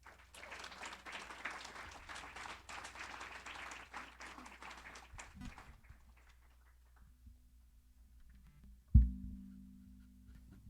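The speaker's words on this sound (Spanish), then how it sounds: "Damos un aplauso al Señor." Church congregation applauding during a worship service, a burst of many hands clapping for several seconds that thins out and dies away, followed by a low hum and a sudden thump.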